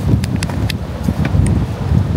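Wind buffets the microphone with a loud low rumble, punctuated by a few sharp clicks and rustles close by.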